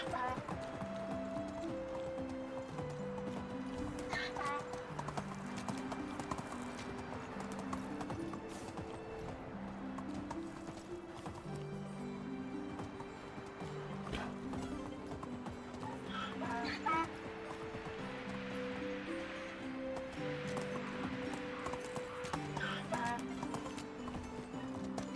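Donkeys walk in the medieval farming game Medieval Dynasty, their hooves clip-clopping steadily and unhurriedly over looping in-game music, with no clear bray.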